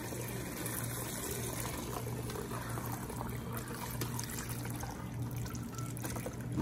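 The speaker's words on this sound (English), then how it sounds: "So I'm gonna strain it off." Red sorrel drink with ginger and cinnamon stick being strained through a sieve, a steady, continuous trickling pour of liquid without pause, moderately quiet with no talking.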